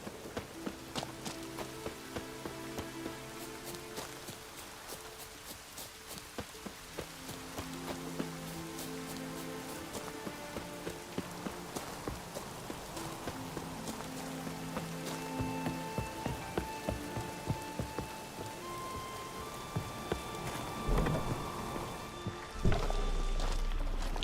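Light rain patters in The Witcher 3: Wild Hunt, a faint, quiet hiss with scattered drops and soft hoof-like clopping, alongside brief musical tones.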